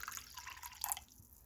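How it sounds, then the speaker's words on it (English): Homemade blackberry wood stain is poured into a smaller container, a faint, brief liquid trickle and splash lasting about a second before it stops. "You always want to pour your stain into a smaller container."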